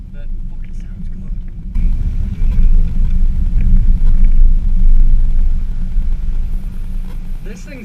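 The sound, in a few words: 90s hot hatch engine with 4-to-1 manifold and cat delete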